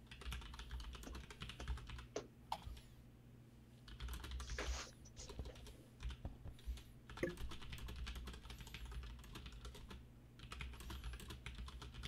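Typing on a computer keyboard during a tabletop role-playing session, with steady clusters of soft key clicks running throughout at close range, with no talk.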